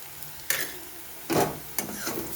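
Grated ginger frying with lightly browned garlic in a pan for egg curry, a soft sizzle with three short stirring scrapes, close and quiet.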